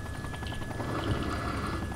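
Apache helicopter flying in Arma 2, a steady close rotor thump and turbine whine with a faint high tone on top, continuous and fairly loud.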